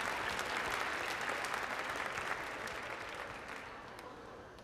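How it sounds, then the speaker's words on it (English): A crowd in a school gym applauds the sideline cheer team at a winter pep assembly, dense sustained clapping that slowly fades toward the end. "Please give them a round of applause,"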